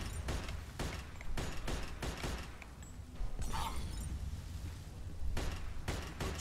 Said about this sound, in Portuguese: Tá atirando, cara. Não sei de onde tá vindo tiro.